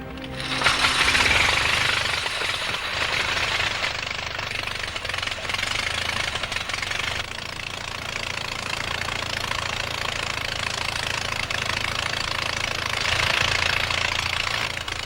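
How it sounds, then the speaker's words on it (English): A homemade engine built by the Wright brothers for their aircraft runs continuously with a loud, rapid knocking and hammering clatter that holds steady throughout, close and alone without any voices. "Everything the Wrights used, they had to make themselves, even the engine"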